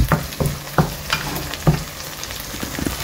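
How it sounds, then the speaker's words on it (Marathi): Ginger and garlic fry in hot oil with a close, lively sizzle, punctuated by several distinct clacks of a utensil against the pan spaced irregularly through the sound. "कितें की आले लसूण पयलीं मातशें तेलान फ्राय करूनच घायलेले बरें"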